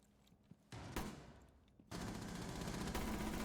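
Video game gunfire punched through a wall, a quick burst of shots followed by a sustained, loud stretch of rapid fire with no talk over it.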